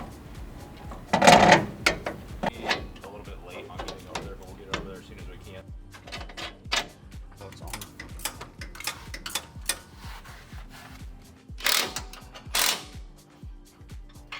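Coilover being bolted onto a 2023 Nissan Frontier Pro-4X during a Titan suspension swap: repeated metallic clicks and ratcheting ticks in a garage, with a loud clank near the start and scattered tool knocks throughout.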